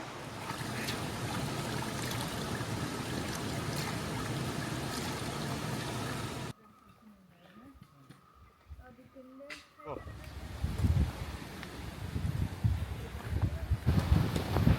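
Strong wind roars through the forest on the Agasthyarkoodam trek in Kerala, a loud, steady gusting rush that drops away briefly, then returns buffeting and uneven as people talk.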